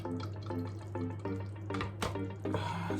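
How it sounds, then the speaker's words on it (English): Boiled eggs tumble into a bowl of cold water, with several watery splashes and drips (the loudest near the end) over a steady low hum, with no one speaking. "I'm going to dump them in this cold water."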